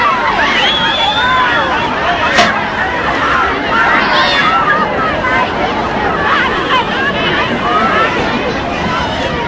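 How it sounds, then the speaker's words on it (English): A Fort Worth, Texas crowd in 1963 presses in to shake hands with President Kennedy, a dense, continuous babble of many voices with steady wind buffeting the microphone throughout. "This is the crowd as they shake hands with President Kennedy."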